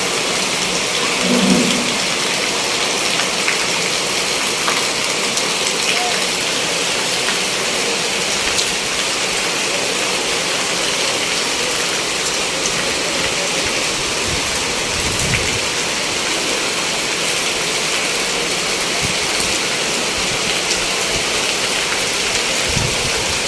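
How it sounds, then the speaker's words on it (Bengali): Heavy rain pours steadily in a Bangladeshi village in Shariatpur district, a dense, loud, unbroken hiss with occasional low rumbles that may be thunder. "এখানে দেখতে পাচ্ছেন প্রচুর বৃষ্টি।"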